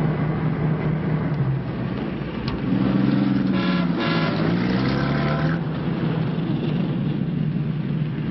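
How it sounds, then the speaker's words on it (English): Car traffic on a bridge rumbles steadily while a few honking horns blare together near the middle and then fade back into the continuous road noise. "Out of this bridge traffic, Horace."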